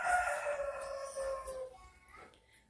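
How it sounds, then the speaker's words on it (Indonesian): A rooster crows once in a long, drawn-out call that fades toward the end, heard at moderate distance and fairly faint, from an empty garden lot next to a house. "ada suara ayam, ya, semoga nggak terganggu"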